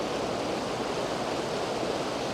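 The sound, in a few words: waterfall cascade in South Wales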